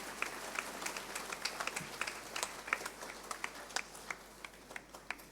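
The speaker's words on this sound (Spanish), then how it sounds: "Felicidades, entonces un aplauso para cada uno de ustedes." A church congregation applauding during a Spanish-language sermon, a moderate room full of scattered individual claps with distinct sharp hits in a quick uneven rhythm, somewhat distant and reverberant.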